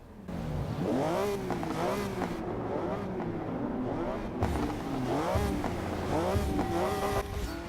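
Sports car engine in the video game Forza Motorsport 6, a Porsche, revving up and down with rapid exhaust crackles and pops, loud and continuous, rising in pitch several times.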